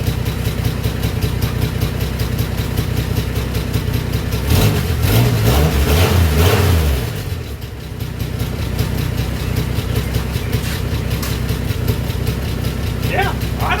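A 1974 Dodge D100's engine runs freshly tuned, a steady close idle broken by one short rev partway through before settling back, with low voices at times.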